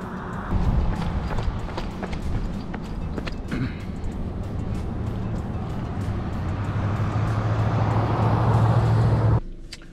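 A car driving along suburban roads around Bethany and Beaverton, Oregon, a continuous interior road hum with rising engine drone that cuts off abruptly near the end.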